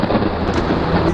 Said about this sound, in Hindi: बाहर बिजली कड़क रही थी।